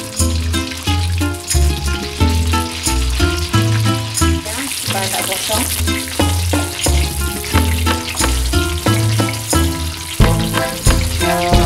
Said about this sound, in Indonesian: Selanjutnya telurnya saya goreng dulu.